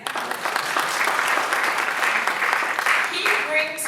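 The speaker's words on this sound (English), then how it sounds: "Yes, you can clap for him again." An audience at a reparations panel event bursts into sustained, even applause for a panelist, dense clapping filling the whole stretch with a faint murmur beneath.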